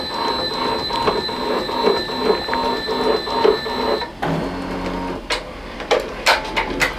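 An embroidery machine stitches a sketch-style design onto a T-shirt on a BAI Mirror 1501, with steady rapid needle clatter and motor hum, then a brief pause followed by sharper intermittent clicks and thumps.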